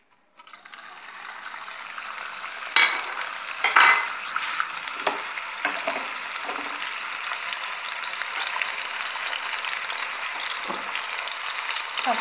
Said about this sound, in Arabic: نديرو الكفته في المقله